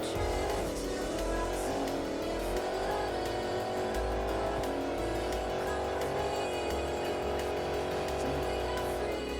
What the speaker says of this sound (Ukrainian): Їду опа хотів зробити дріфт, але не вийшло чомусь